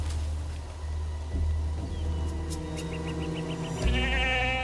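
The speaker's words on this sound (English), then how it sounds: "It's another goat." A goat bleats in a few quick wavering pulses near the end, heard close over a steady low rumble with no talking.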